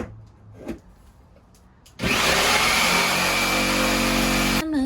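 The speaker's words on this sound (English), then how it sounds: "we're gonna cut that little piece off and try and support it with a piece of trim like that" A power saw cuts a small piece off wooden trim inside an RV during a tongue-and-groove ceiling install. A few quiet knocks come first, then a loud, close, sustained whine starts abruptly and cuts off near the end.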